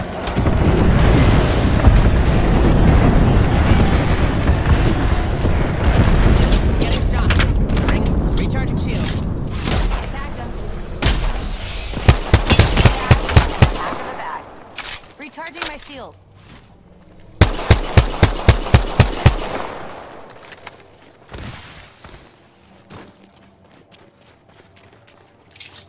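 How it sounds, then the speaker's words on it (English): Apex Legends battle gunfire and explosions: a long heavy rumbling blast and clatter, then bursts of rapid automatic shots, quieter gaps and more fire, loud and close throughout. "Getting shot at."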